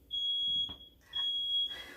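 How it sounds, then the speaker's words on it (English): Two sharp, piercing electronic beeps from a smoke alarm set off by a very old oven, each lasting about half a second with a short gap between them, close and loud. "I guess I set off a smoke detector"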